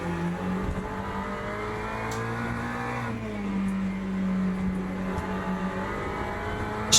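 GT3 race car engine at Sebring in the Le Mans Ultimate sim racing game, a steady droning in-car engine note that holds, dips and climbs again through gear changes, loud and continuous with faint clicks over it.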